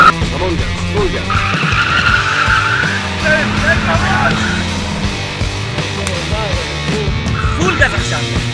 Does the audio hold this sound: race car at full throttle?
yes